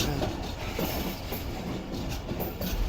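A passenger train on a mountain line rolls slowly toward a station, a dense continuous rumble of wheels and carriages with faint rhythmic clatter, close and steady, with no talk.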